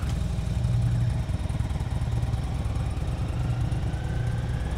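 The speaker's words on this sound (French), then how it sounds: "Ces sons de moteur sont une présentation de l'avenir." Engine sound from a French-language advertisement, likely a tuk-tuk: a loud, steady, rumbling engine drone with rattling clatter that runs throughout, with no voices.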